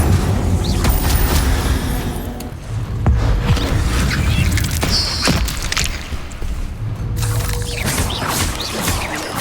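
Fire spell Incendio cast during combat against spiders in Hogwarts Legacy, heard as dense, loud crackling bursts and booming blasts over a continuous game soundscape, with brief whooshes and impacts throughout.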